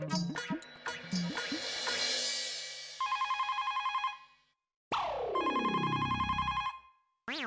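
Telephone ringing in a home setting in the sitcom Taarak Mehta Ka Ooltah Chashmah: a trilling electronic ringtone with repeated warbling bursts, a descending sweep and a brief return, fairly quiet and without talking.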